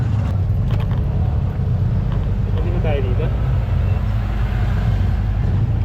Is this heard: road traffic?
yes